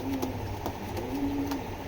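Racing pigeons coo nearby, with two drawn-out low calls over a steady background hum and a few faint taps.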